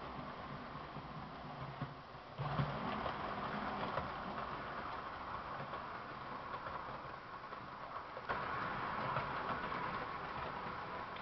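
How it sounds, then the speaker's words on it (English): A model freight train runs along a home layout, producing a steady, soft rolling rumble with faint clicking that swells slightly as it passes, continuous and alone. "here comes the freight train"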